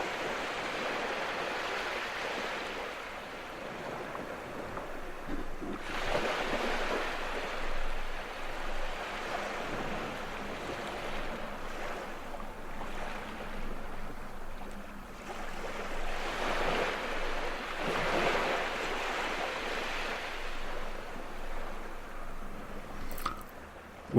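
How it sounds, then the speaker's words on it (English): Gentle waves wash in and out on a quiet beach, a soft steady surf that swells and recedes in slow broad surges with no voices. "just listening to the waves gently come in and out"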